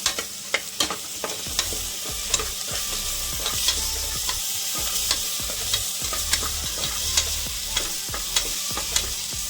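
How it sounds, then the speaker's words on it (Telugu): Turmeric, salt and ginger garlic paste fry in a pan for a raw peanut curry, stirred with a spoon that knocks and scrapes in a regular rhythm over a steady sizzle. "తర్వాత ఉప్పు, అల్లం వెల్లుల్లి పేస్ట్. ఇప్పుడు బాగా కలుపుకోవాలండి."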